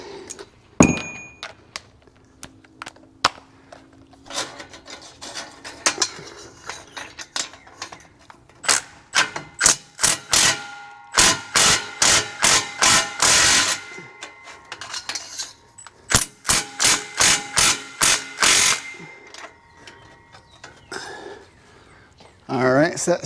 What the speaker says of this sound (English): Now we're going to get the clamp and just snug it down a bit